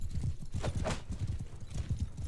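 Horse hooves clip-clop steadily across a siege in the video game Mount & Blade 2 Bannerlord, a busy rhythmic patter of several animals with a brief whinny, loud and close without talk.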